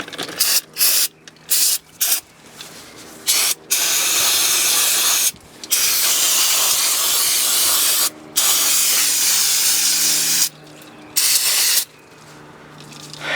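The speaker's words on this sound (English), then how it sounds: "And spray anywhere you touched." Brake cleaner aerosol hisses loudly in bursts on a 2007 Ford Expedition's brake caliper area, several short squirts followed by longer sustained blasts, with brief quiet gaps between them.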